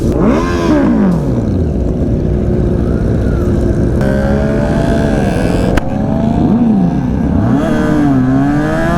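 Several motorcycles setting off on an off-road group ride near Nagda Hills, Indore, engines revving and pitching up and down as they pull away, loud and continuous with overlapping passes.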